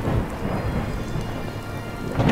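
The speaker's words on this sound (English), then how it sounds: "Man, it is still raining." Rain pours steadily in a video game with thunder rumbling underneath, a dense continuous patter with a low roll swelling at the start and end, and no voices.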